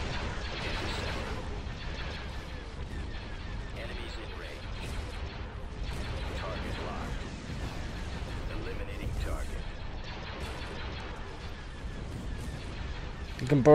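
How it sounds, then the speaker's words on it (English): An artillery barrage in the space battle of Star Wars: Empire at War gives off repeated muffled booms and crackling blasts, steady and mid-distance, with a voice talking over it. "Now the barrage going towards the ships."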